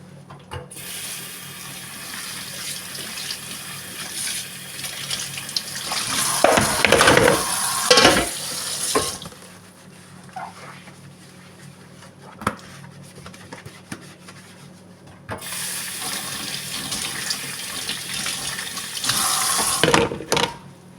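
Water from a kitchen tap running into a sink while food is washed during home cooking, a loud close rush in two long stretches separated by a quieter pause with small clinks, with no talking.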